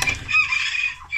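A brief burst of chicken vocalizations, a quick clucking squawk up close, with a faint low rumble underneath.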